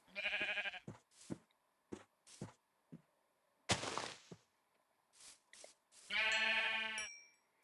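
Minecraft Pocket Edition sheep bleat in short, nasal bursts, with thudding hit sounds and a faint ding between them. The calls are near and come at uneven intervals with quiet gaps in between.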